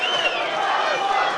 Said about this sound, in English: At this stage, the crowd's going crazy.